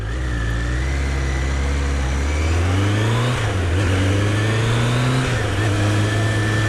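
A Triumph Daytona 1200 motorcycle engine ticks over too fast at idle, a loud, close, steady mechanical drone that rises slightly in pitch partway through and holds there with small wavering.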